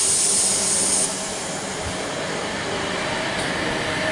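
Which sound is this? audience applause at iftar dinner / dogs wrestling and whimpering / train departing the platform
train departing the platform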